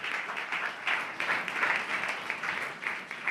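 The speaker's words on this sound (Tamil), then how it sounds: "நல்லா கைத்தட்டி தேவனை மகிமைப்படுத்துங்களேன்" A church congregation claps hands together in a continuous, fairly faint and distant wash of applause with some rhythmic pulses, lasting a few seconds without speech on top.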